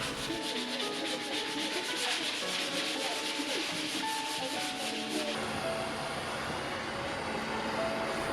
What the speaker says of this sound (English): Clean it up with a finer grit sanding pad.